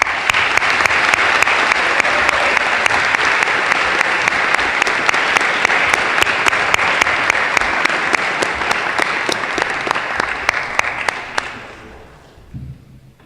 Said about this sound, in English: show your appreciation to all of them with a serious round of applause.